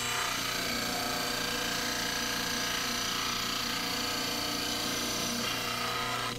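Powered model trimmer grinding down the vertical walls of a dental stone cast, a loud continuous abrasive whir with a steady hum that holds at even level throughout.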